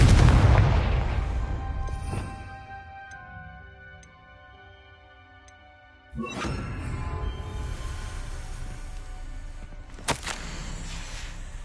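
A Confringo spell in Hogwarts Legacy bursts with a loud blast that rings out and fades, followed by ticking and a second heavy boom near the middle, then a sharp crack near the end.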